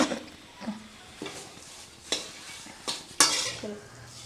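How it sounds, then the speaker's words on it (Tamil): Light stirring and scraping of a utensil in a pan of curry leaves frying on low heat, several separate strokes against a faint background hiss, no voices. "சிம்மில் வச்சுக்கிட்டு வறுத்துக்குவோம்."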